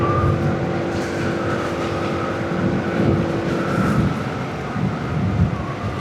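Tricycles passing along a roadside, their small motors droning by with rising and fading engine rumble, moderately close with traffic noise continuing throughout.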